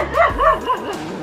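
A dog barks and yips in a quick run of three or four close, loud, high-pitched calls, with a whimpering tail at the end and no talk over it.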